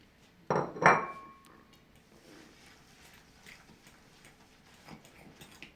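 A spoon clinks sharply against a bowl twice while mixing a dessert of natural honey, flakes, cinnamon and vanilla sugar, followed by quieter soft stirring and a faint later tap.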